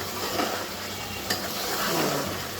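Beef stir-fried with spices in a pan makes a steady, close sizzle with soft scraping stir strokes, and no one speaks.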